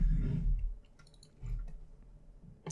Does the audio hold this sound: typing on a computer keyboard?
yes